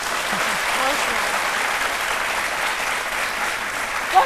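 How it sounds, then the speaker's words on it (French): A studio audience claps steadily for a winning contestant on a live Ivorian TV midday show, a dense, even round of applause that holds at the same level throughout, with a brief louder burst near the end. "Émilie, j'aimerais qu'on applaudisse pour Émilie."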